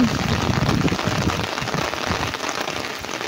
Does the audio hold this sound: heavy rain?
yes